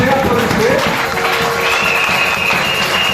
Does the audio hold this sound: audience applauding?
yes